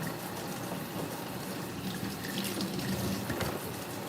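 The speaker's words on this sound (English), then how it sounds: "Let me rinse this off." An item is rinsed under a running water tap, and the steady rush of water into a sink continues throughout at moderate loudness.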